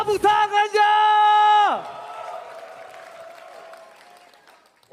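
Esports crowd at the MPL Indonesia Season 12 arena during a Dewa vs EVOS Legends Mobile Legends match lets out a loud sustained whooping cry, then settles into fainter cheering and clapping that trails off.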